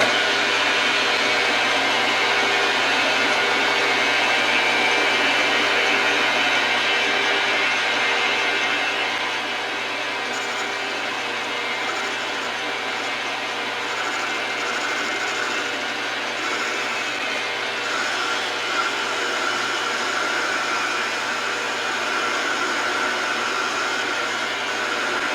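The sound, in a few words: lathe running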